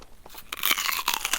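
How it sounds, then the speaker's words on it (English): A loud, close crunch of biting into an apple, done as a storybook sound effect, with a sharp initial bite followed by crisp chewing crunches. "Crunch goes the poisoned apple."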